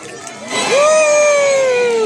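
An audience cheers and whoops at a sea lion show in Safari Birmingham as the sea lion Bounty leaves, a loud crowd swell of mixed voices with one long high call sustained over the babble.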